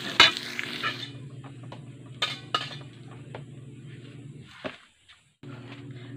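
String beans being stirred in a pan for an omelette, with a utensil scraping and clinking against the pan over a soft steady sizzle, close by.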